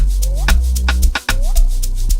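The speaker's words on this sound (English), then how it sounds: "I have the hyper low drum bass, which sounds like this." A deep, booming synthesized amapiano bass drum pattern made in Caustic 3 repeats with a slight pitch sweep, layered with sharper hits, loud and upfront with no voices.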